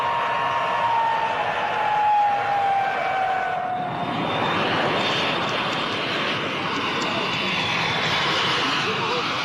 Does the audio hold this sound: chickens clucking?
no